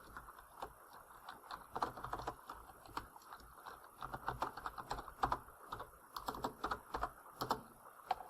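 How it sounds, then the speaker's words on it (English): Typing on a computer keyboard while entering two constraint equations for a linear programming problem: steady, fairly close clicks and key taps in irregular bursts, with a low hum underneath and no talking. "So I'm now going to type in my two constraint equations just like this."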